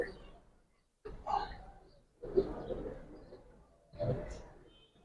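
Silver pigeons give three soft, low coos, each separated by a short pause, heard close and fairly quiet against a still background.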